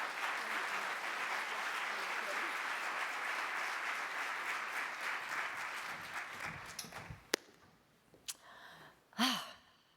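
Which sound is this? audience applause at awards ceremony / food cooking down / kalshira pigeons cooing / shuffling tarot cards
audience applause at awards ceremony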